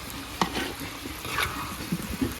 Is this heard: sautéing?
yes